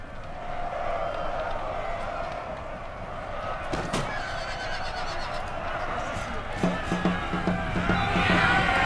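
Horses neighing and whinnying amid a crowd-like battle din in Napoleon: Total War, with galloping hooves and scattered clatter building toward the end, under a voice talking over the action.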